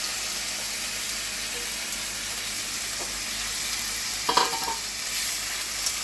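Watermelon rind pieces frying in a hot pan with mung dal, a steady, dense sizzle and hiss held close and loud throughout, with a brief burst of clatter near the end.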